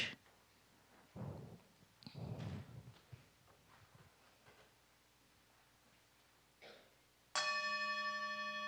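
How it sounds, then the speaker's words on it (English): A meditation bell gong strikes once with a bright, sustained ring that fades slowly away, following a few soft background knocks and rustles. "as the sound of the bell gong ebbs away"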